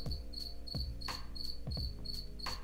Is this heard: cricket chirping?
yes